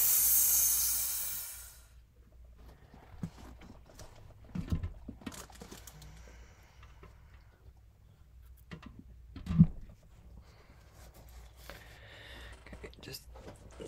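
Compressed air hisses loudly out of a resin pressure pot in a short burst and fades within about two seconds, followed by quiet clatter and handling sounds.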